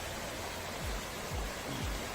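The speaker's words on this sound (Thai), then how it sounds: "ดูอีกรอบนึงนะครับลำธารหน้าเต็นท์เรา" A stream flows past a tent at a northern Thai campsite, a steady broadband rush of running water heard close and continuous, with a few soft gurgles.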